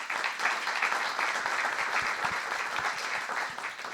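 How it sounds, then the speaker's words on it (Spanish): Audience applause at a round-table panel on artificial intelligence, a steady dense wash of many hands clapping, close and even for the whole stretch with no voices over it. "Un aplauso, por favor"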